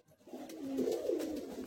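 Madrasi high flying pigeons cooing in a loft in Bagnan, Howrah, a soft, steady, low throaty coo lasting the whole moment, close by with no talk.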